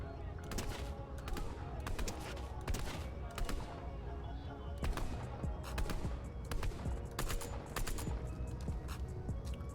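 Rapid gunfire in the Fortnite game crackles in irregular bursts of sharp shots, sometimes single and sometimes clustered in quick volleys, staying close and loud throughout.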